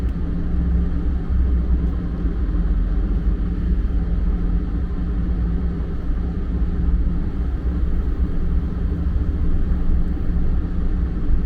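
A truck pulls out onto a snowy Colorado road, its steady low engine rumble and road noise continuous and loud from inside the cab, with no voices.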